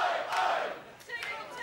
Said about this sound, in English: Listen to that crowd here at Epic Studios.